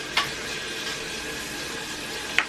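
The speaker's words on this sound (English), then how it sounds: "I'm stirring my bacon." Bacon sizzles steadily in a cast iron pan, a constant crackling hiss broken by two sharp scrapes as it is stirred, near and moderately quiet.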